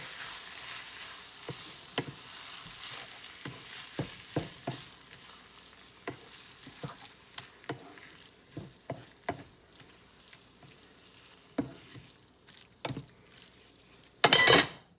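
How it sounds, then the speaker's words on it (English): Homemade sloppy joe sauce with Worcestershire being stirred in a pan: a steady low sizzle under a run of scraping spoon strokes, ending in a louder clatter, no talk. "you just want to, stir all this together"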